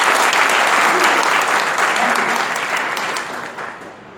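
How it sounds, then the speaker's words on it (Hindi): Audience applause in a hall at a talk for sport coaches, a dense sustained clapping from many hands, loud at first and gradually thinning and fading toward the end. "तो एक बार जोरदार तालियां सबके लिए।"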